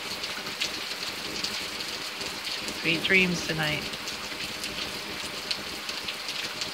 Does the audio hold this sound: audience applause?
no